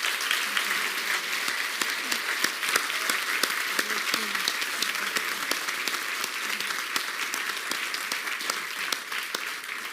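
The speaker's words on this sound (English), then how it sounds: "Please give them all one last round of applause." Sustained applause from a large audience, steady and dense clapping throughout without a break.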